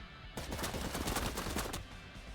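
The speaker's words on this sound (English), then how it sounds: "And, of course, they hear the gunfire." Rapid gunfire crackles in the video game Cyber Knights: Flashpoint, a fast string of sharp bursts starting abruptly and cutting off after about two seconds, fairly quiet.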